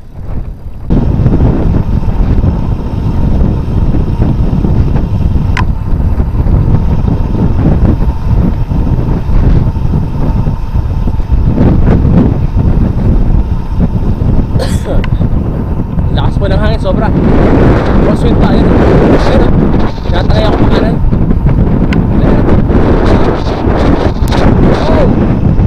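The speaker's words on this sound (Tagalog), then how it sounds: "Lakas ng hangin. Lakas ng hangin. Yung crosswind." Strong crosswind batters the microphone during a bike ride, a loud, continuous roaring rumble throughout, with gusty fluctuations and a voice speaking briefly over it.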